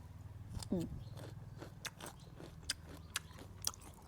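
Someone crunches pickled young tamarind dipped in chili salt, with a bite followed by a series of crisp, close chewing crunches spaced over several seconds, quiet overall, with a brief murmur of voice near the start.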